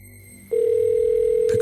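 A telephone ringback tone sounds on an unanswered call: a single steady, loud electronic tone that starts abruptly after a quiet moment and holds.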